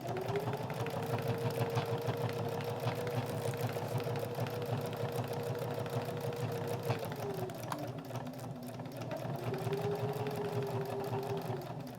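A sewing machine stitches Velcro onto a seat belt cover's fabric, humming steadily and close for the whole stretch, its motor pitch dipping briefly near the end before rising again.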